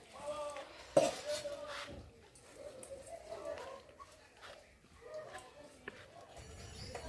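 Plate set down for a meal at a home family gathering, a sharp clink near the start with fainter dish knocks later, amid cooing pigeons and people talking.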